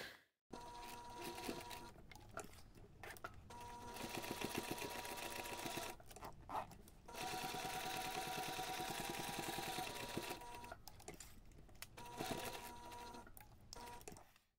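A sewing machine stitches the fabric of a unisex toiletry pouch in several loud, close bursts of steady whirring, separated by short pauses, with no voices.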